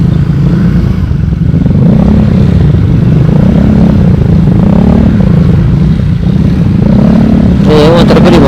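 Several motorcycles on a group Sunday ride toward Puncak and Sentul, their engines droning steadily close by at loud level, with a brief rising rev near the end.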